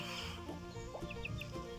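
Backyard chickens clucking softly at close range, a few short murmuring calls over a low steady background.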